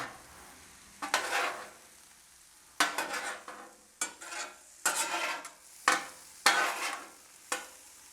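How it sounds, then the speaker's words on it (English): Steak with onions and peppers sizzles on a Blackstone griddle for a cheesesteak, a steady fry broken by about six sharp bursts of spatula scraping and tossing as everything is mixed together. "I bring my onions and peppers back over here and mix it all up together."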